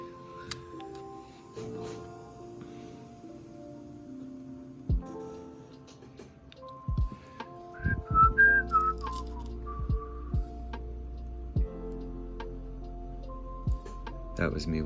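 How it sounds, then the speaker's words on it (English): A person whistling a short tune close by, with scattered ticks and clicks from jewelry wire-wrapping work and some talk alongside. "That was me whistling."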